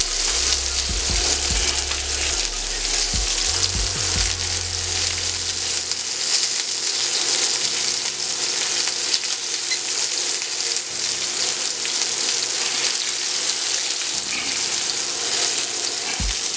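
Chicken wings sizzle and fry on a Steelmadeusa griddle, a steady loud hiss running unbroken throughout with no voices.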